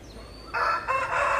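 A rooster crows once on a farm, a loud, drawn-out cock-a-doodle-doo that rises and holds steady through the second half, heard alone with no talking.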